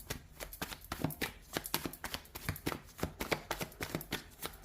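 Tarot cards being laid down and shuffled on a table, a quick irregular patter of soft papery slaps and flicks, close and fairly quiet, with no talking.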